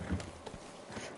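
Horse hooves clip-clop in a video game set in Mexico, a few quick close steps on hard ground over about a second, heard alone without talk.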